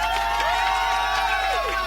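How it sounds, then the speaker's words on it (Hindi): An audience at a live stage event in RJ Mall cheers and shouts loudly for a performer, a dense crowd sound mixed with tonal, music-like voices. "तालियां बजाइए मिलके"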